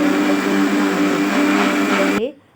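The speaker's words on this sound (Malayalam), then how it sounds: "കുറച്ച് തേങ്ങ അരയ്ക്കുക." A mixer grinder whirs as it grinds coconut, a steady close motor whine that winds down abruptly into silence near the end.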